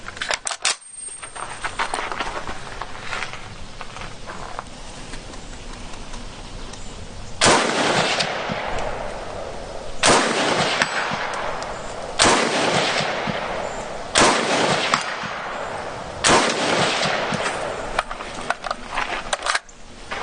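Type 97 FTU rifle fired at a 200-yard outdoor range, with about five sharp, loud reports spaced a few seconds apart, each followed by a brief decaying echo over faint background noise.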